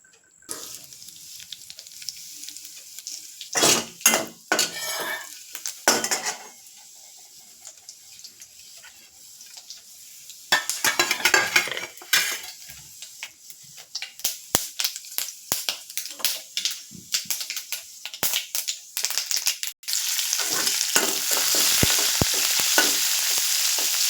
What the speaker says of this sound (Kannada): ಒಗ್ಗರಣೆ ಮಾಡುವ.